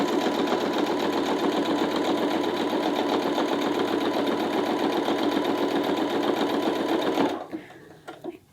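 A sewing machine stitches binding onto Christmas bunting in a steady, rapid mechanical whir that runs evenly for several seconds and then stops abruptly, leaving near quiet.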